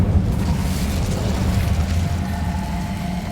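The Incendio fire spell cast in Hogwarts Legacy, a loud, dense roaring whoosh with a low rumble that holds steady across the short moment without any talk.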